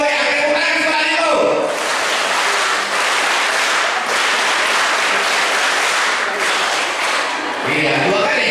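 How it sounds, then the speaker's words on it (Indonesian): Children at a Sunday school service of an HKBP church clap together in a loud, dense burst that fills most of the span, with voices heard before and after the clapping. "satu dua yang tepuk tangan sekolah minggu"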